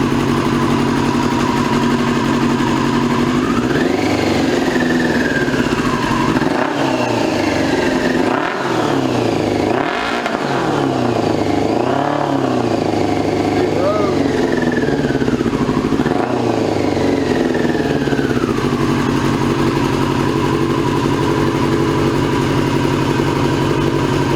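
A 2002 Yamaha YZF-R6 sport motorcycle engine, restarted after sitting six years, runs loudly and continuously close by, mostly idling with a few throttle blips that rise and fall in pitch.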